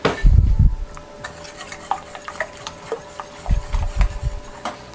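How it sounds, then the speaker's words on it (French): A whisk stirs a boiling cassava starch mixture in a pot, giving several bursts of scraping and sloshing strokes with short pauses between them, close and alone. "On va y aller avec un fouet"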